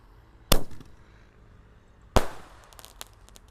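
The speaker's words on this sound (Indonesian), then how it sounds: "Ini meluncur dan beledosnya seperti Roman Candle, tapi ukurannya kecil" Two small Roman candle fireworks launch and burst a couple of seconds apart, each cracking loudly then crackling briefly, with faint pops trailing after the second.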